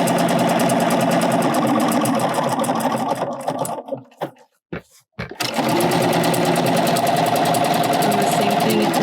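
A sewing machine stitches around the edge of a layered fusible applique on a quilt, running in a loud close continuous rapid whir that stops briefly and then starts again.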